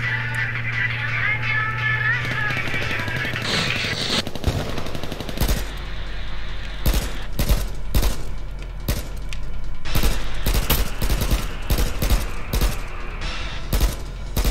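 AK rifle gunfire in the online shooter H1Z1, a rapid run of sharp, loud automatic bursts with short gaps, preceded by a few seconds of engine-like drone and game noise, with someone talking over parts of it.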